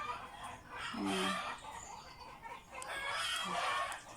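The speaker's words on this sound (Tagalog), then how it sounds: "Hindi ko lang ang iingay po ng manok namin." Backyard chickens cluck and crow noisily, with a rooster's calls rising twice over a steady bed of clucking and rustling close by.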